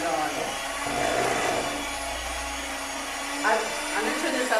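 An electric stand mixer beats shortbread cookie dough with a steady motor whir and slight changes in pitch as the speed is raised, while a woman chats over the noise.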